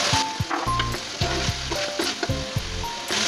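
Paneer and potato pieces sizzle steadily in a hot pan of spiced masala while being stirred, with scraping knocks of a spoon over the constant frying hiss, close up and without talking.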